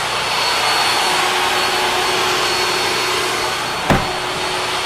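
Power saws run by workers inside a 10 by 40 building, a steady loud broadband whine held throughout with one sharp knock near the end.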